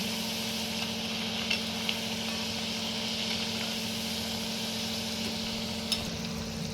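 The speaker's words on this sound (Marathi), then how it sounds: "आपल्या चकल्या तळाशी जाऊन बसलेल्या आहे याचा अर्थ आपल्या चकल्या तळल्या गेलेल्या आहेत" Wheat-flour chakli deep frying in hot oil make a steady, even sizzle and bubbling that runs throughout without pause, with a few faint clicks on top.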